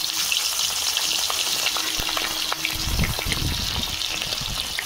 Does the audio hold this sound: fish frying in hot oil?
yes